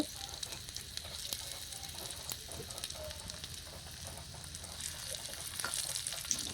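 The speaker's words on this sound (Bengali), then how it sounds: "পেঁয়াজটা নরম হওয়া অবধি সুন্দরভাবে ভেজে নেব।" Chopped onions fry with spices for an egg biryani, a soft, steady sizzle and crackle of hot oil with faint stirring, quiet and continuous, no voices.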